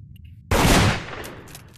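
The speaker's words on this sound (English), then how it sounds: "Now I have two guns. You can shoot them" A single loud gunshot from a handgun in the VRChat game, a sharp close blast with a short decaying tail and no talk over it.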